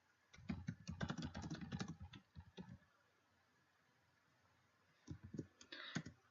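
Keys clatter on a computer keyboard in two quick bursts of rapid typing, close and fairly soft, separated by a quiet pause with no talk.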